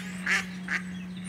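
Two nasal duck quacks in quick succession over a constant low electrical hum.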